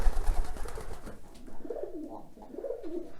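Pigeons in a pigeon loft coo in soft, low, rolling calls that repeat over a steady background hum, fairly close and without speech.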